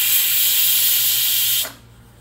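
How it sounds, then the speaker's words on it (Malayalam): A pressure cooker holding camel stew vents a loud, steady blast of steam, then cuts off abruptly, leaving a quiet low hum. "അപ്പോൾ നമ്മുടെ വിസിൽ ഇവിടെ വന്ന് റെഡി ആയിട്ടുണ്ട്"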